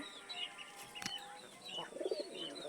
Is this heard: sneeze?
no